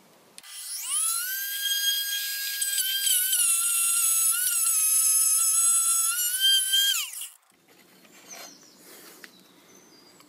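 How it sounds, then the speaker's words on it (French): A cutting machine slices the first strips from a Nintendo GameCube outdoors, a loud, steady high-pitched whine that runs for about seven seconds, wavers slightly in pitch, then cuts off, leaving quiet outdoor background and faint rustling. "j'ai placé la machine, on va pouvoir découper les premières bandes"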